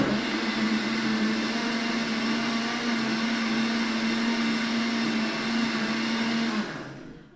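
A kitchen blender whipping batter for a cornmeal cake, with a loud, steady motor whir and churning liquid running for several seconds before it cuts off and winds down.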